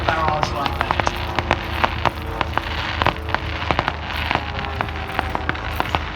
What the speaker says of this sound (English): the ground defence is certainly putting up quite a lot of flak